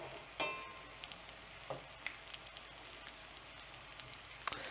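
Baby potatoes fry quietly in duck fat in a cast iron skillet as they are flipped, with a soft sizzle dotted by sparse pops and a few light clicks and clinks.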